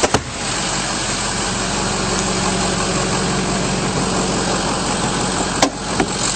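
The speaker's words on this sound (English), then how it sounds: "Under the hood, very clean engine bay, running nice and smoothly." A 2005 Ford F-350 Super Duty diesel pickup idles steadily with its hood open, a close, continuous low rumble with a constant even tone, broken only by a couple of brief clicks near the start and end.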